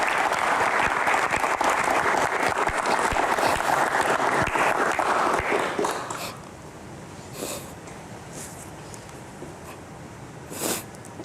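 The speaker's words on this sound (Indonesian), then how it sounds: "Tepuk tangan dulu untuk Bapak." Audience applause at an indoor talk event, a dense sustained burst of clapping from a crowd that fades out after about six seconds, leaving a quiet room with a few faint sounds.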